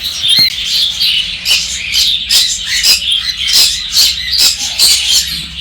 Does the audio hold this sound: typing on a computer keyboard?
no